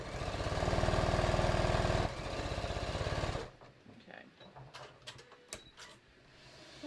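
A sewing machine runs fast and steady, stitching the waistband seam of a pair of shorts, a loud even buzz for about three seconds that pauses once briefly and then stops, followed by quiet handling sounds.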